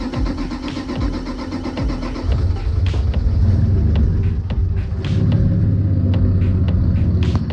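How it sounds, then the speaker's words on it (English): A twin-engine Mazda MX-3 running on E85 cranks and fires up, settling into a loud, close, rumbling idle with rough revving. "So I'm gonna try that one, fire it up, see what happens"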